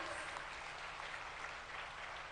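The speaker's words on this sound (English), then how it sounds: "can we have a huge round of applause who's joined us?" Audience applause at a live event in a Hilton hall in Bangalore, a steady, soft, distant wash of clapping with no voices.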